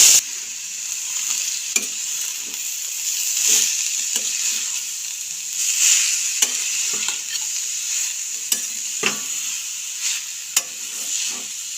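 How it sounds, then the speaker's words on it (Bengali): Grated carrot fries in a wok over a gas flame with cumin seeds and asafoetida, giving a steady sizzle broken by frequent scraping stirs of a spatula. "এখন এর মধ্যে দিয়ে দিচ্ছি গ্রেট করে রাখা গাজর।"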